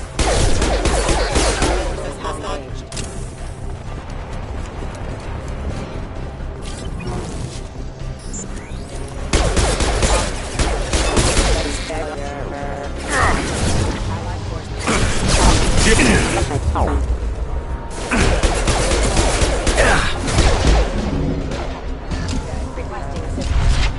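Video game gunfire in Mass Effect 2, bursts of weapon fire and mechanical clatter arriving in loud waves amid combat effects, with voices talking over parts of it.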